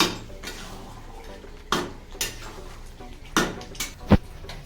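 A spoon stirs curry with kasuri methi in a pan, producing a handful of quiet, scattered clinks and scrapes of metal against metal over a soft background.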